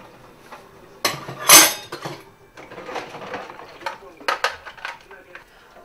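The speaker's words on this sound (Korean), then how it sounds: "우리 설거지 좀 해줬어." Dishes, pots and cutlery clatter during dishwashing in a home kitchen, with a loud burst of clanking and running-water splash followed by scattered knocks and scrapes, and a voice briefly heard in the background.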